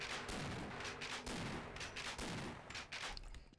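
Rapid gunfire from Half-Life pops and booms in a dense, continuous barrage, loud and close, with overlapping shots and no voices.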